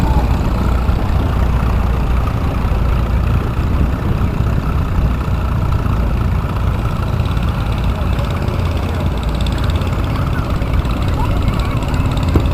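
An Allis-Chalmers WD Speed Patrol tractor engine runs at a hometown equipment show, a steady low rumbling idle with crowd and background noise around it.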